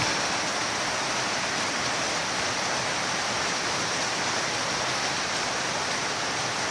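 On a rainy day, a flood pours into a workshop beneath its wall, making a continuous, dense roar of flowing water close by. The noise holds an even level for the whole stretch, and no one speaks.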